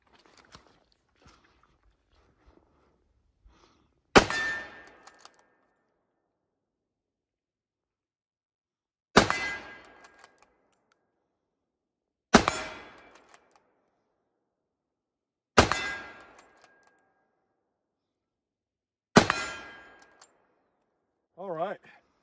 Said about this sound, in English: Let's go ahead and take this last five shots here.